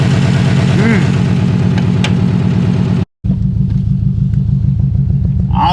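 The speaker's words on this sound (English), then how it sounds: "I don't know if the Subaru box is what I'm hearing or if it's a misfire." A JDM Subaru WRX engine idles with a misfire, a loud, close, uneven pulsing rumble with a rhythmic stumble, broken by a brief cut partway through.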